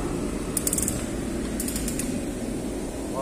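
A ratchet clicks in quick bursts while a part is tightened under a Nissan Sentra 2.0, close over a steady low mechanical drone.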